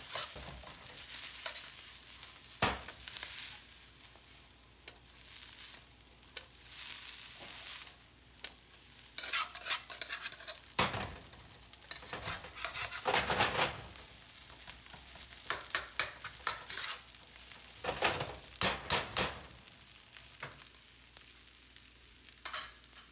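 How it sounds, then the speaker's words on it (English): Fried rice made from leftovers sizzles and scrapes in a pan as fish sauce is stirred through, with irregular bursts of loud frying and spatula clatter over a steady, quieter hiss. "I'm gonna add this fish sauce, mix this up, and then we're done."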